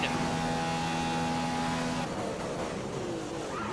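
F1 car engine in the F1 2015 racing game, at the Austria circuit, holds a loud, high, steady whine, then shifts gear partway through and climbs again in pitch as it accelerates.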